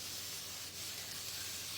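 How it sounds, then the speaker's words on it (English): A pump bottle of cleaning spray misting onto a craft surface, giving a steady hiss that runs for nearly two seconds at close range, with no talking. "I'm gonna spray this and clean this while you guys give your thoughts on that."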